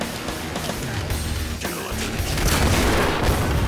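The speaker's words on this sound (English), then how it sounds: "Rocket just barely missed." A rocket explodes in the zombie-shooter game Killing Floor, a loud, sustained booming blast with rumbling debris and crackle that swells toward the end.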